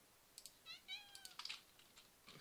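A cat nearby gives a couple of short, faint meows among light clicking taps like keyboard typing in a quiet room.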